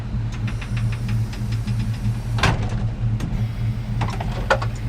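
A 2013 Ford Quigley wheelchair conversion van idles with a steady low engine hum and faint rhythmic knocking, with a few brief clicks and rattles over the top.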